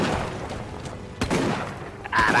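Gunfire from the video game Deathgarden: sharp, loud booming shots, with one blast in the middle and another near the end, over a steady background of game noise.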